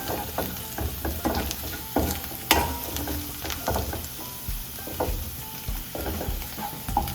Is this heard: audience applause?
no